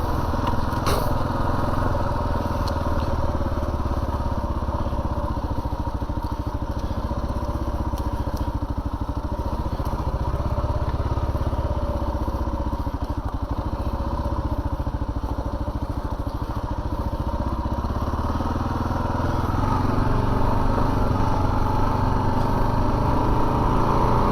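A 2022 Kawasaki KLR 650 motorcycle rides down the street with a steady, loud engine drone and rumble that holds for the whole stretch, with no talk over it.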